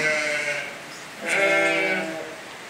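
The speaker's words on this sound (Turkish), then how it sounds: "Burada bizim dişi koyunlar var." Ewes in a Turkish farm pen bleat twice in close succession, the calls loud and near over a quiet background.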